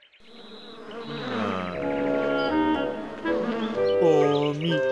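Cartoon wasps from the animated series Boonie Bears buzz in a loud, wavering, tonal drone that rises and swells close up, with no talk.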